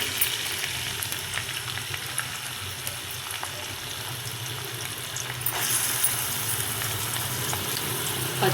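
Chopped onions drop into hot oil with cumin seeds for a drumstick curry, giving a steady close sizzle that swells a little louder partway through, with no voices.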